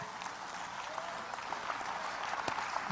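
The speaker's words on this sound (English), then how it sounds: "Go ahead and clap. Get it out." An audience at a church sermon claps in a steady, dense round of applause, continuous for the whole stretch, heard at a moderate distance and fairly quiet.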